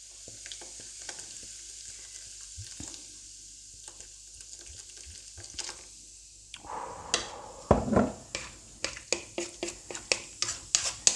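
Ale poured into a hot pan of browned beef for steak and ale pie sizzles loudly, then scraping stirs repeat in a steady rhythm, close and alone after a quieter start.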